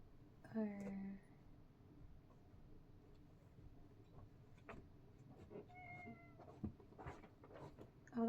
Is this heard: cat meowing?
yes